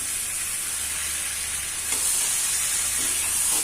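Bamboo shoot fries in leftover oil from cooked meat, a continuous close hissing sizzle that swells slightly louder partway through, with no talking.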